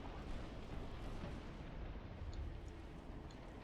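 Deep rumbling booms of warship naval gunfire in a video game blend into a continuous low roar, loud and dense with no clear gaps.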